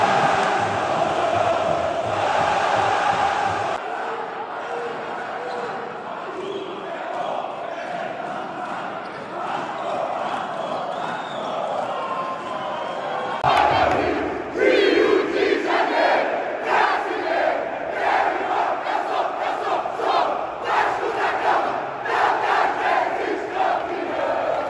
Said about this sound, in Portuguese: veja o grito de casaca dos nossos atletas junto com a torcida lá em São Paulo